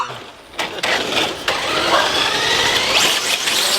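A Chevrolet Camaro ZL1 fitted with a JLT cold air intake cranks and fires up, its engine catching with a few sharp bursts before settling into a loud, steady, close rumble.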